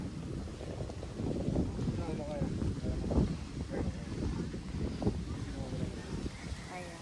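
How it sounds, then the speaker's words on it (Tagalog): Strong wind buffets the microphone on a boat trip near an island in Quezon Province, Philippines, a steady low rumbling roar with gusty swells that runs throughout. "Malakas ng hangin."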